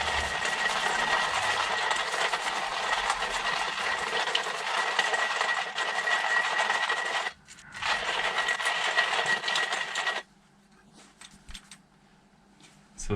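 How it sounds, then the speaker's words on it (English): Hand grinder crushing coffee beans inside a van, a dense continuous gritty rasping with a rhythmic churn, close and loud, stopping briefly and then cutting off for the last few seconds. "I'll start grinding my coffee. But this is just a hand grinder, and it just takes a couple minutes to grind your coffee."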